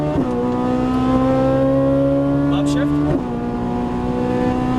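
A Ferrari 458 Italia engine at full throttle on a track, a loud sustained high-revving tone that climbs, then drops sharply with an upshift and climbs again, with a voice talking over it.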